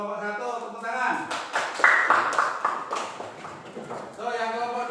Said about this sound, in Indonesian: Untuk kelompok 1 tepuk tangan.